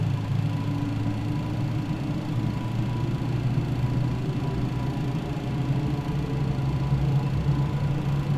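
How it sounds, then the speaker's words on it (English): The startup of an MD-11 jet engine in Microsoft Flight Simulator gives a steady low drone with a slowly rising tone over about eight seconds, moderate and even, with no voices. "Engine startup sounds are nice."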